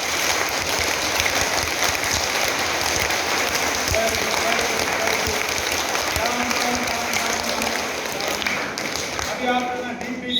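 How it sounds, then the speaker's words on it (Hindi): A seated audience clapping with both hands in a continuous, even patter of many hands that carries on for about ten seconds before trailing off as a voice begins speaking. "अभी जो ना दोनों हाथों की तालियां बजाएंगे"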